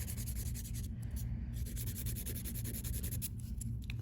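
A finer grit nail file rubs steadily across a surface, a continuous close scratchy friction that holds without pause under low background hum.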